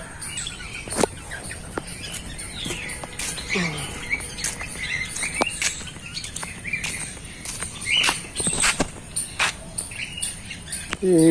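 Cockatiels chirping in a zoo aviary cage, a busy run of short, bright calls and tweets scattered close together across the whole stretch, with insect-like buzzing and background noise underneath and no talk.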